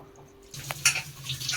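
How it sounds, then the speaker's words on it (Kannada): Water splashes into a pressure cooker holding washed methi, spinach and coriander for a greens sambar, starting after a brief quiet moment with light clinks of metal cookware. "ಈಗ ಸ್ವಲ್ಪ ನೀರು ಹಾಕೋಣಂತೆ."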